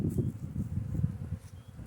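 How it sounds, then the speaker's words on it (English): Honey bees hum densely around an open hive during a March inspection, a close, steady low buzz with a constant swarming texture and no voices. "Solid brood. A lot of emerging bees."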